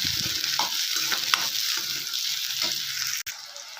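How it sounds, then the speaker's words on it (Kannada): Sliced onions fry with cumin and mustard seeds in hot oil for a potato and pea curry, giving a loud steady sizzle and hiss with occasional soft stirring scrapes, close up and without talk. "ಸ್ವಲ್ಪ ಕಲರ್ ಚೇಂಜ್ ಆಗೋವರೆಗೆ ಈರುಳ್ಳಿ ಕೈ ಆಡಿಸೋಣ"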